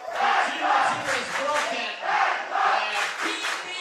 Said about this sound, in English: Our large and noisy Danish crowd celebrating these first points of the